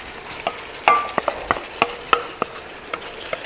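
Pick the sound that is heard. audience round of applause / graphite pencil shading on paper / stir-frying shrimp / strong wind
stir-frying shrimp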